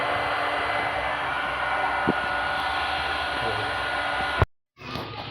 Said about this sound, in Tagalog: Yung blower ko lang, yan, o, nawawala.